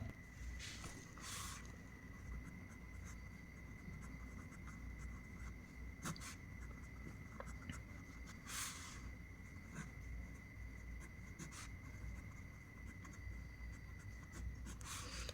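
Pen or pencil writing on paper while drawing a lens ray diagram for a physics lesson, a steady scratchy stroke texture with short bursts of quicker scribbling, close and fairly quiet, no talking.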